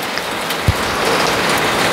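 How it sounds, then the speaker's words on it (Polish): Rain falls steadily on a garden in the evening, a close, even patter and hiss with one brief louder drop, continuous throughout with no talking. "Deszcz pada."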